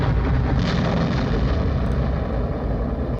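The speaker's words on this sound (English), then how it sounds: "That was a nice explosion!" A loud, sustained explosion from the 1962 James Bond film Dr. No, a dense, roaring blast that holds steady for about three seconds before cutting off abruptly.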